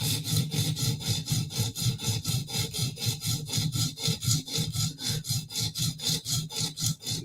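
Spyderco Native knife being sharpened on a stone, close rhythmic gritty back-and-forth strokes, about four per second, steady and even throughout with no talk.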